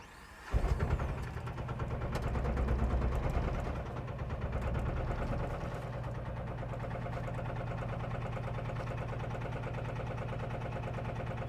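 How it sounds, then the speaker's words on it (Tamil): Mahindra Jeeto Strong mini truck's engine cranks and catches, revs briefly, then settles into a steady chugging idle with a low rhythmic vibration, close and continuous with no talking. "இப்போ வண்டியை வந்து நான் உங்களுக்கு ஸ்டார்ட் பண்ணி காட்டுறேன் இதோட வைப்ரேஷன் எப்படி இருக்குது அப்படின்றத நம்ம பார்க்கலாம்"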